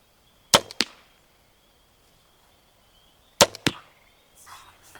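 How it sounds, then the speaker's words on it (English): Two crossbow bolts are shot in turn, each a sharp, loud snap of the string with a quick second crack right behind it as the bolt hits, set against near silence outdoors, with faint rustling near the end. "I'm going to load a bolt and I'm going to go ahead and take a shot"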